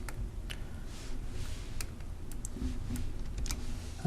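Typing on a computer keyboard, a quick uneven patter of close key clicks over a few seconds against a low room hum.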